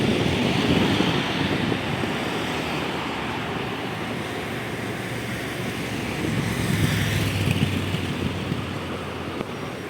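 Steady gusting wind in Istanbul's Bebek neighbourhood buffets the microphone with a low roar, broad rushing noise throughout, surging slightly at moments, with no voices.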